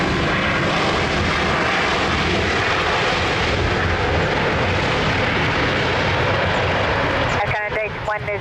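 Airliner jet landing at Lisbon Airport, a loud, steady roar of engine noise filling the whole stretch, with a brief shift in tone near the end.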